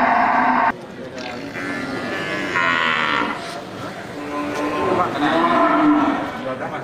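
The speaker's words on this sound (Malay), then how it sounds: "Terlihat juga satu ekor sapi Bali Super." Bali cattle at a livestock market give several long, loud moos close by, with market voices and bustle in the background.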